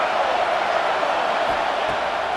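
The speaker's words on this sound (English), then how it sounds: "Here comes the noise from this big crowd in Happy Valley on third down." A big stadium crowd roars on third down in Happy Valley in the NCAA College Football 26 video game, a dense, steady wash of noise that holds at full volume throughout.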